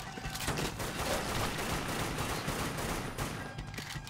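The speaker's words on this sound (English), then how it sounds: "Let's shoot those barrels." Dense rapid gunfire from the video game Dead Nation as barrels are shot, a continuous fusillade of overlapping shots, loud and close with no pauses.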